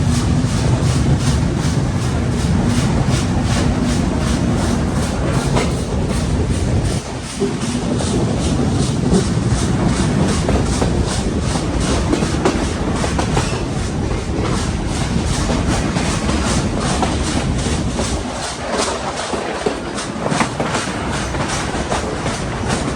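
Chilahati Express passenger train running on the rails through northern Bengal, heard from inside as a loud, continuous rumble with rapid rhythmic clickety-clack of the wheels that keeps going throughout.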